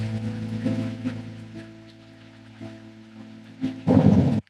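A steady wash of rain and low rumbling thunder in a rainy cyberpunk alley, continuous and enveloping, with a heavier rolling burst of thunder near the end before it cuts off.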